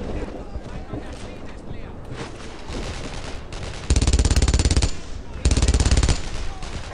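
Machine gun fire in the video game Brothers in Arms: Earned in Blood rattles in two loud sustained bursts, each about a second long, after a stretch of quieter battle noise. A voice talks over the clip.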